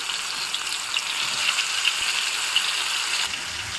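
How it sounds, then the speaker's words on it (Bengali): Chicken pieces frying in a mix of mustard oil and soybean oil, a steady close, dense sizzle with faint crackles and pops throughout, no voices. "চিকেন ফ্রাইগুলো পুরা পুরা করে ভেজে তুলে নিলাম।"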